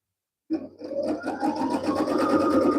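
A home sewing machine runs a decorative fancy stitch on a small gnome mini quilt, starting abruptly after a brief silence and then whirring steadily with a close, continuous rhythmic stitching hum.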